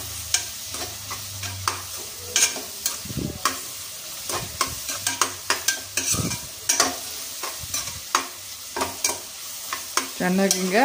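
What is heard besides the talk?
stir-frying paneer fried rice with onion flower, carrot and cabbage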